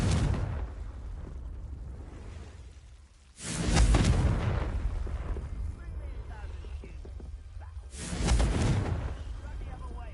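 Confringo spell explosions in the video game Hogwarts Legacy: two booming blasts about five seconds apart, each with a long rumbling tail over a steady background, while a voice speaks between them.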